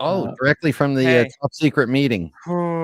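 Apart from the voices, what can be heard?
None of the usual background noises is heard.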